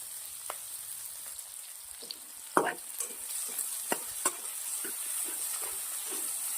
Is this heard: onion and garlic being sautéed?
yes